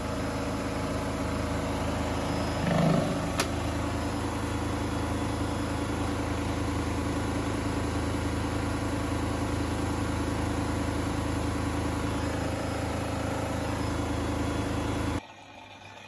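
A washing machine rinse cycle at 1800 RPM keeps up a steady, loud motor hum and whirring drone with constant tones, then drops abruptly near the end.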